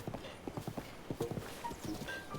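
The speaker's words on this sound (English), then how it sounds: "I got a new horse." Horse hooves clip-clop in a steady galloping rhythm through Zelda: Breath of the Wild's open world, with a brief whinny near the end over a soft ambient game backdrop.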